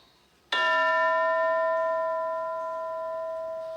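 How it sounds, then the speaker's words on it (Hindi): A single bell struck once, a bright clang with a long ringing tone that sustains and slowly fades over a few seconds, alone in a quiet room. "अब फिर घंटी बजेगी"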